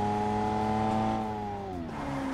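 A video game car engine hums with steady tones that drop in pitch as it slows, a smooth synthetic motor sound with no speech.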